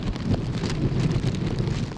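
Steady, dense storm noise of heavy rain and gusting wind during Typhoon Usagi in Western District, Hong Kong Island, a continuous broadband wash with no voices.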